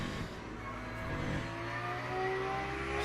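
An LMP3 prototype race car in Le Mans Ultimate approaches, its engine whining with a steady, rising buzz that grows slightly louder over a few seconds and stays continuous with no talking.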